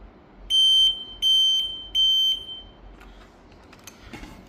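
A Fire Smart FS946 ionization smoke alarm sounds three loud, shrill test beeps in an even rhythm, followed by faint handling noise and quiet room sound.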